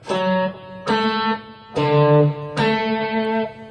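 A classical guitar picks out a quick run of notes from a Bach piece in pairs, four bright attacks spaced evenly, each ringing briefly, played alone and close.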